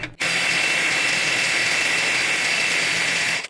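GTM 18-volt cordless impact wrench loosening a rusty nut, a loud, continuous high-pitched motor whine lasting about three seconds with sharp start and stop, no talking.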